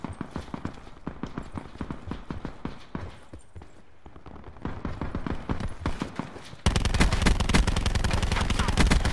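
Rapid, steady gunfire in the battle royale game Black Ops 4 Blackout, heavy and continuous, growing denser and louder near the end.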